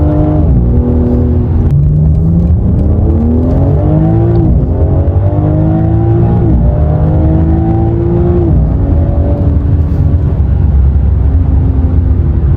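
A 700 hp BMW M3 pulls at half throttle on a dyno, the engine note climbing steadily through several gears with loud, sustained rising tones and brief dips at each shift.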